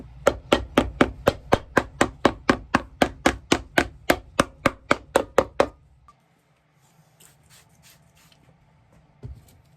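Rapid series of sharp hammer blows on a leather shoe, about twenty evenly spaced strikes, loud and close, followed by a few quiet clicks and taps.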